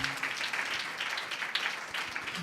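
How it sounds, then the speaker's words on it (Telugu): A church congregation claps together in praise of God, producing a steady, dense wash of many hands clapping at once that continues evenly throughout, from a moderate distance. "క్లాప్స్ కొట్టి దేవుని మయంపరుదాం"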